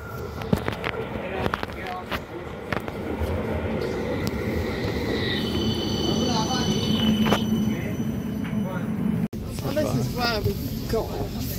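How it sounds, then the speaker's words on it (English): A West Midlands tram rolling along rails with rumbling wheels and high metallic squeals, voices talking nearby, and a brief cut near the end. "Here's my next tram. It's going to Esbaston."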